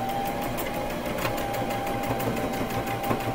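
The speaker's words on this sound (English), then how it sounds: "I'm going to stitch," A sewing machine stitches and back-stitches a rag quilt at a one-inch seam, a steady rapid whirring mechanical hum that runs loud and continuous with no talking.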